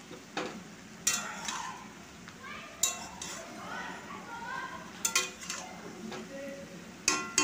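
Boiled cauliflower is stirred in a cooking pot, with scraping and sharp metallic clinks of a utensil against the pot coming in irregular bursts amid a soft sizzle, while a voice talks.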